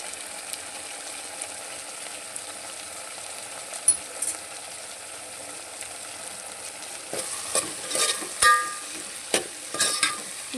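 Okra simmers in a pan with a low, steady sizzle while chili and cumin powder are stirred in, the spoon scraping and clinking in irregular bursts toward the end.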